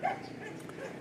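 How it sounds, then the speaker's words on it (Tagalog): A household dog yips and whimpers briefly at mid distance, a short high bark-like sound fading into quiet background. "Ingay talaga ng aso namin."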